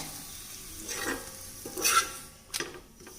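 Pumpkin chapati cooking in ghee on a hot griddle gives a few short, close sizzling and scraping bursts over a quiet hiss, with no voices.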